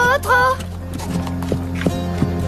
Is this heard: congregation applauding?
no